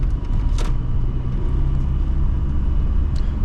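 A car with an automatic transmission cruises smoothly, producing a steady, loud low rumble of road and engine noise with no jolts or gear-change surges.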